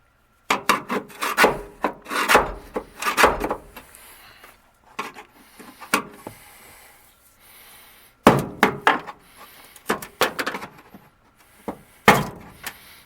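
Bursts of sharp scraping and tapping as a hammer drives a chisel along a floor, removing an old floor coating, in irregular clusters separated by short pauses.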